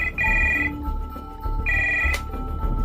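A telephone rings at night, two electronic trilling bursts with a pause between, clear and close over a low background hum.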